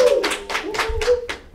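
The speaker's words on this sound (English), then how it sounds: "Can we get a round of applause" A short round of applause at a church talk show, about six quick bursts of hand clapping, close and fairly loud, with a held tone under it.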